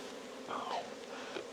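Honeybees buzz around a small hive colony, a soft, close hum that rises and falls briefly over a quiet background.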